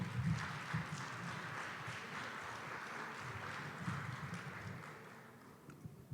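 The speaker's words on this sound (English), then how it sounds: "Let's give him a round of applause." Applause from the audience at an opening plenary session, a soft, steady patter of clapping from a moderate crowd that carries on evenly and tapers off near the end.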